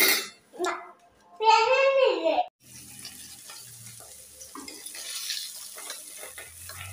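Katla fish frying in hot oil, a steady close sizzling hiss that takes over after a few seconds of a voice and other talk at the start.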